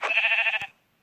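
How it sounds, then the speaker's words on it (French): Sheep bleat in the Minecraft video game, a single clear, loud, wavering bleat lasting just over half a second, then silence. "Mouton."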